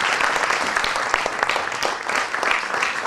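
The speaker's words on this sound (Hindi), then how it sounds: "तालियों से स्वागत।" Audience applause welcoming a speaker at a batch reunion gathering, a dense, steady patter of many clapping hands sustained evenly throughout, fairly loud and close with no voices standing out.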